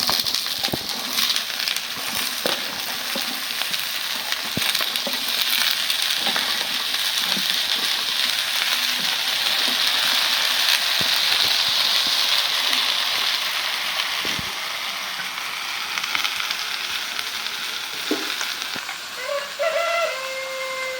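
Mixed vegetables and onions fry in a pan with a steady, fairly loud sizzling hiss that runs throughout, broken by small pops and clicks, and a few bird chirps come in near the end.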